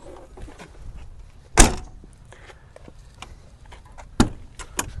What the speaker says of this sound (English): instead of messing with this little small door that you've got, you can just open this entire door